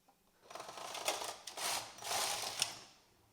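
A double-bed knitting machine carriage slides across all needles to knit one cast-on row. It gives a soft rising and falling mechanical whir and clatter in a few sweeping passes in a quiet room, with no talking.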